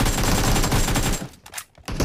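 Rapid automatic gunfire in PUBG Mobile during a team deathmatch, a dense burst of shots that breaks off into a few scattered pops before resuming.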